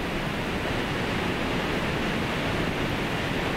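A steady, dense roar of rushing water fills the whole clip, constant and loud with no breaks, from a nearly 100 m waterfall close by in Yosemite National Park.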